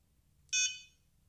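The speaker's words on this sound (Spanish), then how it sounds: "Aquí nos permite darle el porcentaje de volumen a la alarma" A single short electronic alarm beep from a Furious FPV Aquilles 5.8 GHz receiver module, a clear bright tone lasting about half a second and fading out, heard alone against quiet background.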